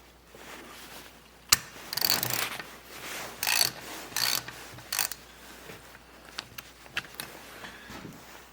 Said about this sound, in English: So let's screw in the adapter in, show you what it looks like here